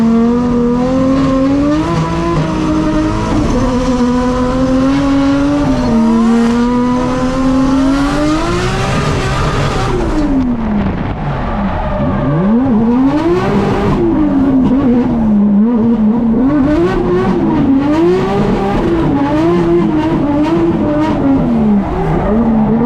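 A drift car circuits a sketchy track, its engine revving loud and continuous with rising and falling pitch as it shifts through a lap, tires squealing throughout; no talking.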